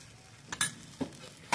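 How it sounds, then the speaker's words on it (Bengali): Rice and lentils frying together with salt and turmeric, a spoon stirring and scraping the pan in a few short, separate strokes over a faint low sizzle, fairly quiet and with no voices. "এবার লবণ হলুদ দিয়ে খানিকক্ষণ একসাথে ভেজে নেব।"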